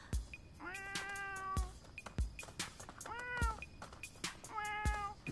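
A person imitates a cat, giving three drawn-out, wavering meows separated by sharp knocks and clatter nearby, all fairly close and clear with no talking.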